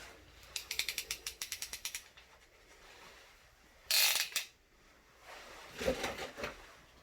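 A hand crimping tool squeezes a fitting onto gray polybutylene pipe, giving a quick run of about ten sharp ratcheting clicks, then a short louder crunch and a few more clicks, close and clear in a quiet room.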